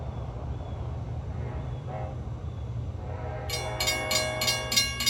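Long Island Rail Road train 8776 sounding its horn for the Islip Avenue crossing while heading east, the horn blasting in a rhythmic series of long and short blows over a low steady rumble, moderately distant.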